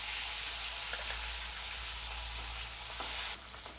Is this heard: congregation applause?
no